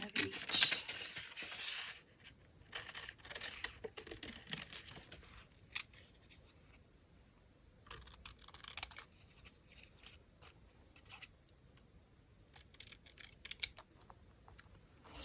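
Paper tickets snipped with scissors: a run of sharp, close cutting snips and crisp paper rustles, some bursts dense and loud, others sparse, with no talking.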